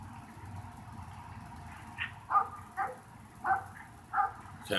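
A dog in the video game Brothers: A Tale of Two Sons gives a few short, fairly quiet barks and yips spaced about half a second apart over a low steady game-world hum.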